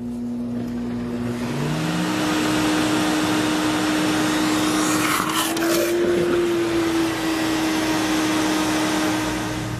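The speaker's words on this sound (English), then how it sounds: "The Sirena will also function as a wet pickup vac." A Sirena vacuum cleaner runs as a wet pickup vac, giving a loud, steady motor whine that holds throughout. Its pitch shifts up briefly midway as water is sucked in with a gurgling rush.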